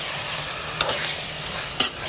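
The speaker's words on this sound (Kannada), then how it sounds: "ಒಂದು ಸ್ಪೂನಿಂದ ಇದನ್ನು ಮಿಕ್ಸ್ ಮಾಡಬೇಕು ಚೆನ್ನಾಗಿ" A spoon stirs a chicken fry mixture of chicken, onion and chilli in a pot over a soft, continuous sizzle, with two sharp metallic scrapes close by and no talk.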